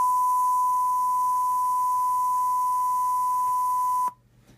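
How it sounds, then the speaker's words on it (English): A steady 1000 Hz sine tone from an upward-facing speaker with sugar resting on it, loud and unbroken for about four seconds before cutting off abruptly into near silence. "Now generate a high frequency sound of around 1000 Hz."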